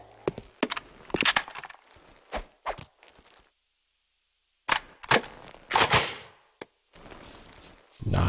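Blaster gun firing in the video game Jak 2 Renegade: a string of sharp, loud shots in irregular bursts, with a brief pause midway before more rapid firing.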